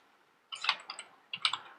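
Code being typed on a computer keyboard, two short quiet bursts of a few key clicks each, close and sparse, with no talk.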